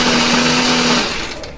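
An electric blender grinds a spice paste of candlenut, shallots, garlic, coriander and pepper with added water or oil, a loud steady whirring motor hum that winds down toward the end.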